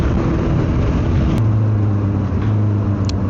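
Road traffic heard from inside a vehicle: a loud, steady motor hum with a brief sharp click partway through, then a smoother, lower drone continuing without talk.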